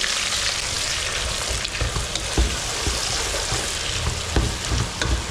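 Onions sautéing in a pan for a prawn biryani make a loud, continuous sizzle and crackle, with scattered scrapes and knocks from stirring throughout.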